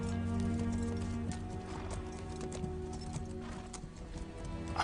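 A horse trots on a hard surface, its hooves clip-clopping in a steady rhythm over a low, droning background.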